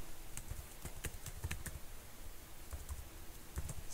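Keys on a computer keyboard clack in quick uneven bursts, close and faint, with short pauses between clusters of keystrokes.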